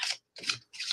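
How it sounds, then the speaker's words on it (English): A deck of playing cards being shuffled by hand: three quick, crisp riffling bursts in a row with short pauses between, close and clear, no talk. "This is me shuffling. This isn't this. These cards are not for you."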